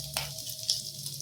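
Dried fish sizzles in hot oil for a village-style dry fish gravy (karuvadu thokku), a brief close frying hiss with a couple of sharper crackles.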